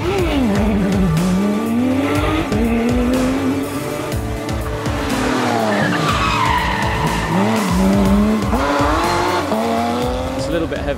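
A 2012 Porsche 911 997 Gen 2 rally car in RGT class races at a rally in Germany, engine loud and close with revs rising and falling across several gear changes, tyres squealing and skidding throughout.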